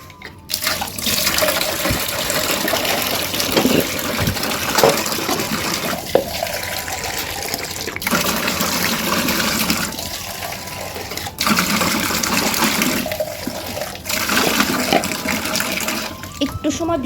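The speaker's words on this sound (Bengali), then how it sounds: "তাহলে আর কি কালকে রাতের বাসন তো তাহলে তাড়াতাড়ি ধোয়া হয়ে যায়" Tap water running steadily in a kitchen sink while last night's dishes are washed, a continuous close splashing rush with small surges and breaks, no talk over it.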